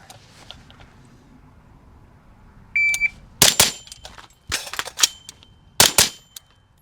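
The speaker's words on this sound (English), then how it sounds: "Plastic PMags definitely feel like they reload easier." Plastic PMag magazine being reloaded into a rifle with a modernized carry-handle build: a short electronic beep, then a series of sharp plastic and metal clacks and snaps in quick bursts, close and alone.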